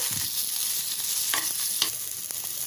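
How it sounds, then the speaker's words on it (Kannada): Cumin seeds, garlic and about a tablespoon of oil frying in a pan for Karnataka-style cabbage bassaru, giving a steady broadband sizzle with a few brief stirring scrapes, close and alone. "ಈಗ ಒನ್ ಟೇಬಲ್ ಸ್ಪೂನಷ್ಟು ಎಣ್ಣೆ ಹಾಕ್ಕೊಳ್ಳೋಣ ಇದನ್ನ ಒಂದು ಅರ್ಧ ಭಾಗದಷ್ಟು ಹುರ್ಕೊಳ್ಬೇಕಾಗತ್ತೆ"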